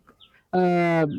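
A man imitates a chicken with a single loud, drawn-out nasal squawk, close and clear after a faint murmur.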